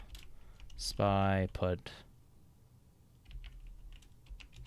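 Short bursts of computer keyboard typing follow a man's speech, light clicking keystrokes in two clusters near the end, fairly close and quiet.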